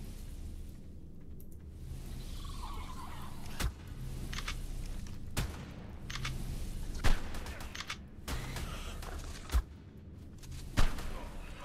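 Shotgun blasts ring out in a tight cave corridor in Ark Survival Evolved, several sharp loud shots spaced a second or two apart over a rumbling game soundscape.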